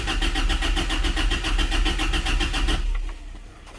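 A car engine cranks over steadily with a fast, even rhythm for nearly three seconds, then cuts off without catching, a no-start condition, loud and close with no talk.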